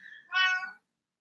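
A house cat gives a single short, clear meow close by, preceded by a faint higher sound, then silence.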